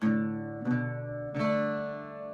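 Irish bouzouki picking a melody with doubled drone notes and an open D triple drone, three bright plucked strikes each ringing out and decaying, played up close and alone.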